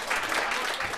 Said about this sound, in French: Applaudissements mérités.